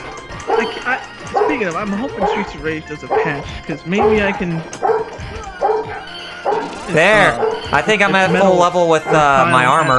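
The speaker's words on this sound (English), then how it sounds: "I do apologize for the barking in case if you guys are wondering" A dog yips, whimpers and barks intermittently in the background, rising toward the end, beneath someone talking steadily through a live gaming session.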